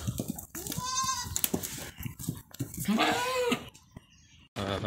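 Anglo-Nubian goats bleat loudly nearby, two or three wavering cries separated by short gaps, with light background noise.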